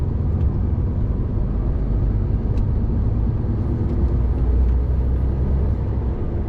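A car cruises along the M6 motorway near Birmingham, a steady, loud cabin drone of engine and tyre rumble with no breaks, heard from inside the vehicle.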